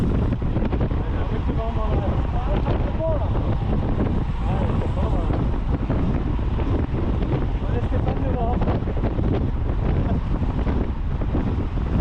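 Strong wind during a bike race at the GP Sainte-Suzanne, heavy wind roar buffeting the microphone without a break, with a rider's voice talking over it.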